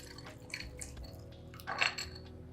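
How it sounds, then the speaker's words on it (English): Espresso is poured over ice in a glass, with a few clinks of ice and a brief liquid splash swelling near the end, close and moderately loud. "I'm just gonna pour it over the ice."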